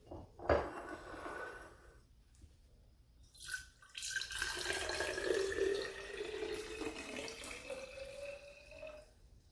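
Water poured into a vase until full, a brief knock followed by a close trickling pour whose pitch rises steadily as the vessel fills, quiet with no talk.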